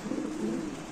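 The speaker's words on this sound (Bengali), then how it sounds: "কবুতর" Pigeons at a bird market give a continuous low cooing, close and steady throughout with no talking.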